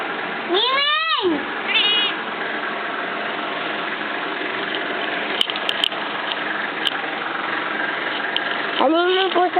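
A cat meows with rising, drawn-out cries at the start and end, alongside ratcheting mechanical clicks and a steady background hum.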